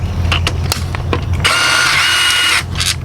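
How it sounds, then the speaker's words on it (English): Close ratcheting clicks from a hand ratchet backing out T30 screws on a throttle body while removing a charge pipe, in several short bursts followed by a longer steady run of rapid clicking. "we're gonna go ahead and take the screws off up top at the throttle body, and those screws are gonna be T30s"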